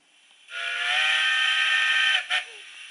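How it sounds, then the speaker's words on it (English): An American locomotive horn plays from a model train sound decoder, one steady chord sounding for about two seconds, clear and close, followed by a brief second blast. "An American built loco, nice American horns"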